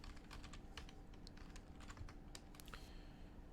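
Rapid clicking of computer keyboard keys, with irregular clusters of taps at close range and low level, no voices present.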